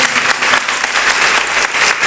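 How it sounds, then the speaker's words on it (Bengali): An audience at a session at a government ITI breaks into loud, sustained applause, dense clapping from many hands close by, with no voices above it. "এটা সর্বের জন্য একটা হাততালি হবে প্লিজ"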